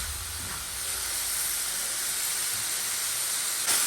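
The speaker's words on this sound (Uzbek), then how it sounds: "Buni biz mana 5 minutcha mana shu yog'da qovurib turamiz" Thinly sliced beef frying in oil in a pan, a loud, steady hissing sizzle that stays constant throughout with no pauses, heard close up and with no talking.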